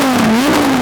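A 2017 Audi R8 V10 Plus with a Capristo exhaust holds a steady, loud engine note with a slight rise and fall in pitch, close by and with no voices.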